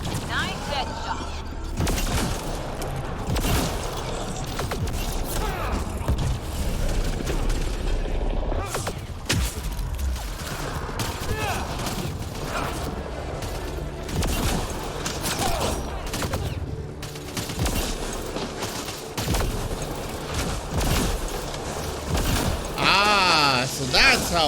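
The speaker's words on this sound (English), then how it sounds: "I bounce the shots off the ground to explode them in their face." Dense gunfire crackles through a Mass Effect: Andromeda firefight, with shots bounced off the ground bursting into explosions, steady rapid volleys and booms close up under frequent talk.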